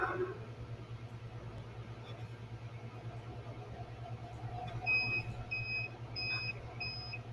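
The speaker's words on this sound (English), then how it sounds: "And our timer is going off." The timer on an ECO Farm 8 ton hydraulic dual rosin press goes off, a series of short, evenly spaced electronic beeps in pairs, faint over a steady low machine hum.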